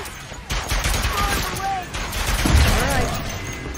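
Heavy weapons blasting in Ratchet & Clank: Rift Apart, a dense rapid volley of shots and impacts running throughout, loud and continuous with a bigger burst toward the end.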